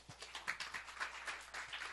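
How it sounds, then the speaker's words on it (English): Sparse audience applause in a presentation room, a small group clapping unevenly with distinct individual claps, fairly quiet and close. "can we give a big round of applause for Jerry?"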